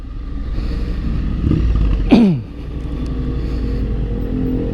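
A Triumph Street Scrambler 900 motorcycle idles with a steady low rumble, then gives one sharp rev that rises and quickly falls back to idle, close and loud.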